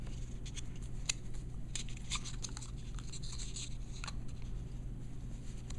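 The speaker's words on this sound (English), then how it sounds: "I'm going to wrap this pipe with Teflon tape" Teflon tape wrapped around a threaded pipe nipple for a bathtub shower diverter: quiet, close crinkling and light scratchy rubbing in irregular short strokes over a low steady hum.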